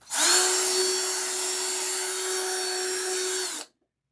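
A power drill reaming holes in a Halloween deco mesh wreath form whines loudly and steadily for a few seconds, then cuts off abruptly into silence.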